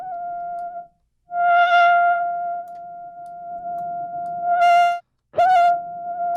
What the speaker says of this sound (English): It's a different kind of distortion if you want.